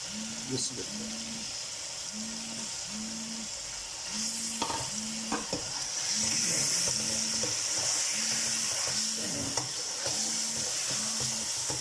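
Chicken pieces fry in a pot for aloo gosht, giving a steady sizzle that swells louder midway, with stirring scrapes over a faint, regular low pulsing in the background.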